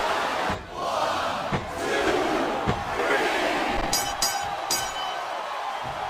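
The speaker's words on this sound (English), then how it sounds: "I think this crowd's giving these superstars a piece of their minds, King." A large crowd roars and cheers continuously in WWE SmackDown vs Raw 2007 during a John Cena vs Triple H match, a dense wash of voices with a few sharp clicks and bursts near the end.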